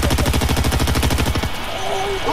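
Fortnite gunfire, a rapid machine-gun stream of close, loud shots firing in a steady rhythm for about a second and a half, then stopping abruptly into background noise.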